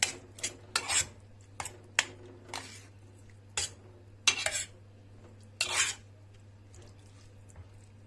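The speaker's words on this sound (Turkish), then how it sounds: "Geçen yaz sezonundan kalma konserve melemenimizi döküyoruz" Canned menemen, with the peppers already mixed in, being poured from the can into a cooking pan: a series of separate clinks and wet scrapes spread across the clip, close and fairly quiet, with no talking.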